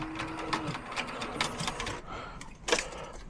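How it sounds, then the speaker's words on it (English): A sewing machine stitches loops for a small leather holster for a K-frame revolver, its needle chattering in quick, fairly quiet bursts with short pauses, up close and without talk. "Here I'm sewing some loops."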